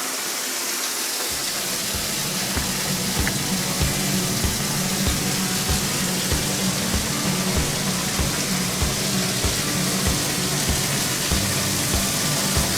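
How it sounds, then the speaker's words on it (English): A hose gushes water into a 400 gallon aquarium, making a loud, continuous rushing splash with faint regular low pulses beneath it, no voices. "pardon the noise from the hose"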